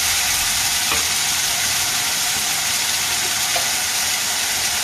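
Chopped tomato hitting hot oil in a frying pan for an egg red curry, a loud, dense, continuous sizzle up close with a couple of brief stirring clicks, no voices.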